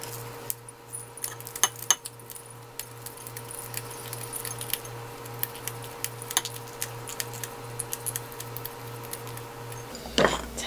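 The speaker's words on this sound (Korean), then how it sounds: "그래서 가위로 이렇게 가늘게." Dried chili peppers being snipped finely with kitchen scissors while preparing beef sashimi and yukhoe, giving a run of light, repeated close clicks and crisp cuts over a steady low hum.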